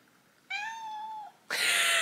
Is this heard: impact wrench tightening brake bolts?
no